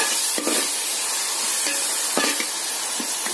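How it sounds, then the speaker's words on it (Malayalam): Tomatoes sauté in hot oil for a rava upma, a steady close sizzle with a few scraping stirs of the spatula breaking through at intervals. "തക്കാളി ചേർത്ത് നല്ല എണ്ണം വഴറ്റി എടുക്കണം"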